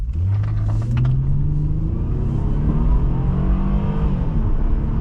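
A 2003 Acura TL 3.2 engine revs hard and climbs steadily through the gears from 0 to 60 mph in 7.3 seconds, loud and close, with a continuous rising drone and brief shifts.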